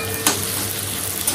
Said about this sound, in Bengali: পটলটাকে ভালো করে ভাজছি।